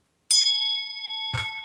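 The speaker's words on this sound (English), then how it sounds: "Need to ring the bell." A bell gives a single clear ding with a sustained ringing tone, then a short muffled knock near the end, heard alone without voices.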